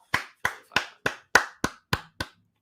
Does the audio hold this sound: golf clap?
yes